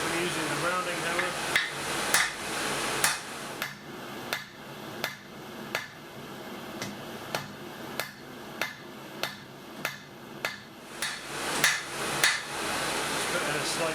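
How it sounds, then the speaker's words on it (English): Steady rhythmic rounding hammer strikes on hot steel over an anvil horn, about one blow per second, sharp and ringing, close by with a quieter buzz of background noise. "with a rounding hammer put a divot in either side on the horn"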